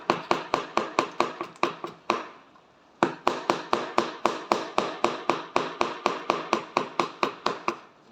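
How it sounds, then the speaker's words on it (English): A big, heavy kitchen knife chops ingredients for chop suey and chow mein on a board in a fast, steady run of sharp thuds, close and loud, with a brief pause before the chopping resumes. "Might just chop us some of these a little bit more."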